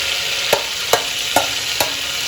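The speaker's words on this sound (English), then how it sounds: "Now in this we will go 1 inch of cinnamon and about 10 cloves, and let it puff out." Cinnamon stick and about ten cloves fry in roughly two tablespoons of butter, giving a steady close sizzle with four sharp spoon clicks at even intervals. No voices are heard.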